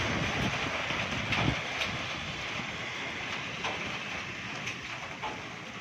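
A vehicle speeds past on a wet road in heavy rain, its tire hiss and rumble swelling briefly near the start before settling back into the constant wash of rainfall.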